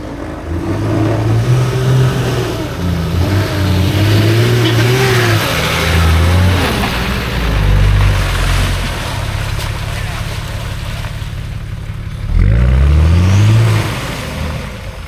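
A Nissan Q-Bus 4WD revs its engine climbing a steep track in the Victorian High Country, a loud close growl rising and falling in pitch with repeated surges, and a short voice heard over it.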